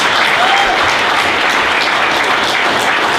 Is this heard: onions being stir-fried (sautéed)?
no